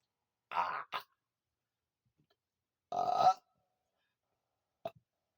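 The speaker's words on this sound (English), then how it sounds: "I burped so hard that my shoulder cracked." Two loud, throaty burps a couple of seconds apart, each followed by a short, quieter catch, then a faint brief click near the end.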